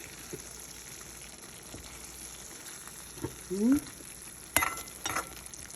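Salted fish fries in a pan over a high flame with a steady soft sizzle, broken by a few brief clinks and scrapes of stirring.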